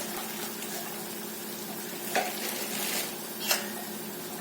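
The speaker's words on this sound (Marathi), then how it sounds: "मंदाचेवरती त्याच तेलामध्ये छान भाजून घ्यायचं" Gram flour roasts in oil over a low flame, giving a soft, steady sizzle with a couple of brief scraping stirs, fairly quiet and alone.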